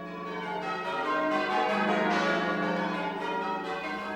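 English change ringing from a tower of full-circle church bells, a continuous wash of overlapping metallic tones ringing in steady sequence, loud and unbroken with no voices.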